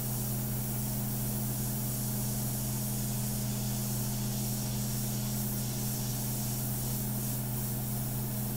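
An airbrush sprays India ink onto a portrait, giving a continuous even hiss layered over a low steady hum, uninterrupted throughout.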